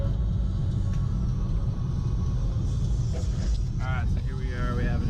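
A MK4 VW Golf R32 driving around town, a steady low road rumble and engine drone inside the cabin, with a voice speaking near the end.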